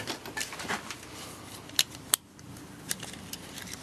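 A measuring tape is pulled out and handled in a workshop during racing tractor work, giving a few sharp metallic clicks and snaps spaced a second or so apart over a quiet, faint background.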